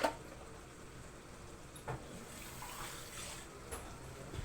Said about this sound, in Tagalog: nalagyan naman natin ng konting tubig